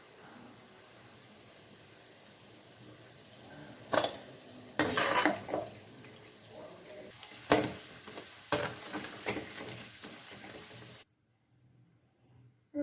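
Vada frying in hot oil hisses under a string of sharp metal clanks and scrapes as a ladle lifts the fritters out, then the sound cuts off abruptly near the end.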